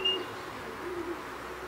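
A racing pigeon coos softly a couple of times against a quiet background hum.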